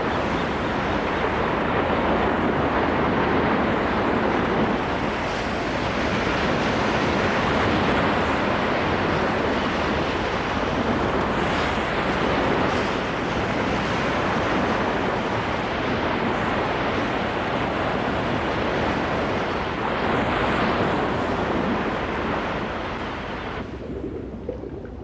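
Stormy ocean surf roars steadily, heavy waves crashing in a dense unbroken wash with wind-like rumble, loud and close throughout, with no voices.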